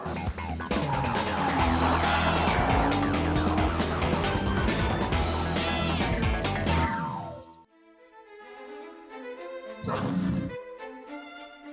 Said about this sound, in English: So this is the new Lamborghini Huracan.